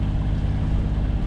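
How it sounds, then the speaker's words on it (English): A sailing boat motoring under its diesel engine mid-Atlantic near Horta: a steady, loud, low droning rumble with constant engine throb and no pauses. "We're still under engine, as you can probably hear."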